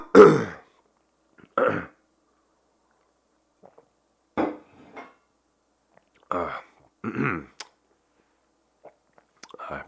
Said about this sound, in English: Pardon me, I have the cough